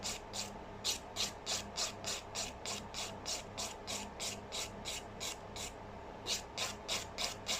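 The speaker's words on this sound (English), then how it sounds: "I'm just going over with my file over the rest of the nail" A nail file buffs back and forth over acrylic nail extensions in quick, even rasping strokes, about three per second, close and moderately loud with a short pause near the end and no talking.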